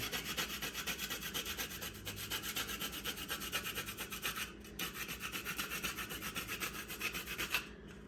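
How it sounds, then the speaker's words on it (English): Fresh nutmeg is grated over the top of a pie, a quiet, rapid rhythmic rasping of strokes that continues steadily with only brief pauses. "We're just going to grate a little bit of fresh nutmeg across the top of it."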